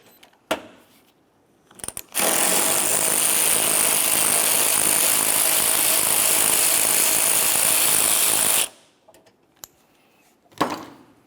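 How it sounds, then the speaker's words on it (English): A power tool buzzes in one sustained, loud run of about six seconds while working a 10mm-headed bracket bolt on a 2001-2005 Ford Explorer Sport Trac, framed by brief clicks and knocks before and after. "Go ahead and remove that bolt."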